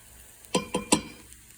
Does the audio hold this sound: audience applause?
no